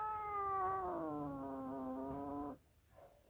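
A cat gives a long, loud, drawn-out meow close by, holding steady before cutting off, then a quiet pause.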